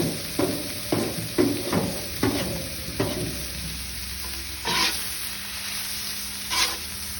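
Food fries and sizzles in a pan in a solar kitchen while a utensil stirs it in rhythmic scraping strokes, about six quick passes, then a couple of slower stirs over the continuous hiss.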